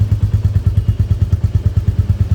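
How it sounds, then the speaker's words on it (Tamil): Royal Enfield Classic Reborn motorcycle with its stock silencer idling steadily nearby, a loud, even thumping single-cylinder exhaust beat of rapid regular pulses with no speech. "நம்ம கம்பெனி பைக் சவுண்டு எப்படி இருக்குதுன்னு பார்த்துக்கலாம்."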